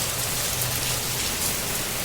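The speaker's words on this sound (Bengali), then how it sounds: "বৃষ্টি ভালোই হচ্ছে।" Steady rain of a hail shower in Kolkata, heard from inside a room, pours down as a dense, continuous hiss with no pauses and no voices.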